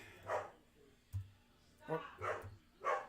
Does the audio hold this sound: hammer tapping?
no